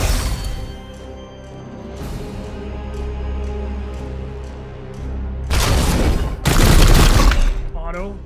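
Gunfire in the Warhammer 40k: Chaos Gate Daemonhunters video game. A softer, sustained backdrop with occasional hits gives way to two loud, dense bursts of rapid shots near the end.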